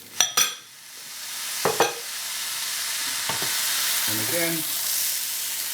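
Peas stirred in a hot pan for pilau rice, with a steady sizzle of frying throughout and a few sharp scrapes of the spoon against the pan near the start. A voice speaks briefly toward the end.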